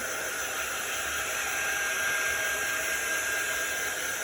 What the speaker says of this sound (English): So this is our heat tool, or it's our quick dry tool.